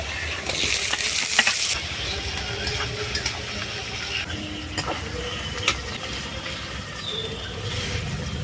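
Ginger garlic paste and chopped tomato fry in a pan with a continuous sizzle, punctuated by occasional scraping stirs, close and fairly loud, with faint birdsong in the background.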